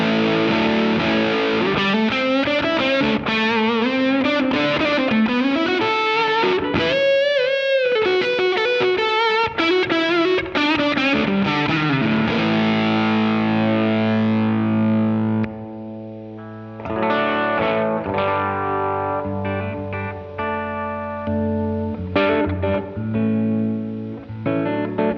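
Cranked electric guitar through a Crazy Tube Circuits Hi-Power amp-style pedal, heavily saturated, with bending sustained lead notes, then chunky low chords that ring out with audible noise, loud throughout.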